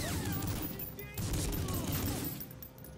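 Gunfire in Medal of Honor Frontline, a rattling fusillade of shots striking the player, heard loud and dense with game noise and some voice over it.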